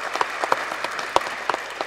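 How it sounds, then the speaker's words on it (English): An audience at a science and politics event gives a brief round of applause: a short burst of separate, fairly close claps at an uneven pace. "So I'd actually invite everybody to give them a round of applause."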